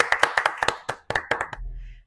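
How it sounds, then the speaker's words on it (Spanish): Short burst of hand clapping for a podcast guest, about a dozen crisp, close claps in a quick rhythm with a brief pause midway, then stopping abruptly into quiet. "Pues sin más, un aplauso"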